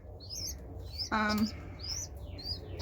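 Small birds chirp and tweet in repeated short calls around a loft where baby birds are raised indoors, with a brief louder call in the middle against a low room hum.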